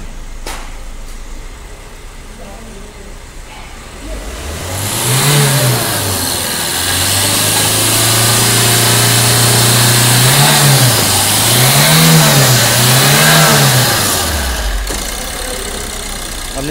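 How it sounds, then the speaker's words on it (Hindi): Engine of a Maruti Suzuki Ertiga with a starting fault where it stalled when revved: it idles quietly, then is revved repeatedly, rising and falling in several loud swells before dropping back, with no talking. "अब हम रेस करके चेक करते हैं, क्योंकि रेस पकड़ते ही हमारी गाड़ी बंद पड़ जाती थी।"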